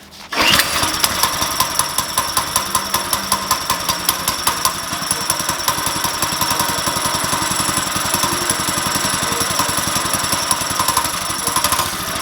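Small Chinese engine on a drift trike, sitting for two years and fed fresh gas, catches and runs with a loud, rapid, steady buzzing putter that holds nearly unchanged throughout, close by and alone.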